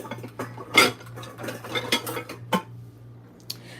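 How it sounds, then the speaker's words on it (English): Pots, pans and a pot lid clattering in a home kitchen, a string of close metallic clanks and scrapes with one loud knock early on, over a low steady hum, then quieting near the end. "I need to get the pot cover."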